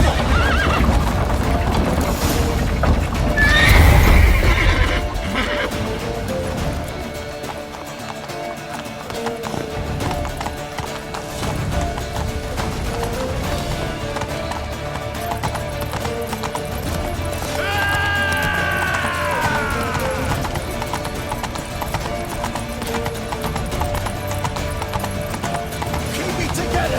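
Horses in The Witcher 3 video game, loud neighing and whinnying with clip-clopping hooves, amid game sound effects and music; a whinny stands out near the end.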